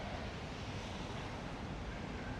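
Ocean waves roll onto a beach in Da Nang during the rainy season, a steady, fairly faint wash of surf mixed with wind noise, with no voices.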